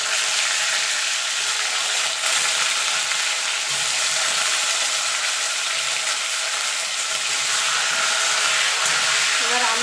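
Potatoes hiss and sizzle steadily in hot oil with whole tempering spices in a pan, a dense, even frying sound, close and continuous throughout.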